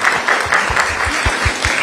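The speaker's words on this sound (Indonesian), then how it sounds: "Berikan tepuk tangan dulu." A brief burst of applause fills a discussion forum on youth and democracy, steady clapping from an audience heard up close for about two seconds.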